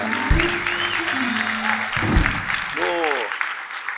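An audience claps during a political talk show, with steady applause running under voices that keep talking throughout.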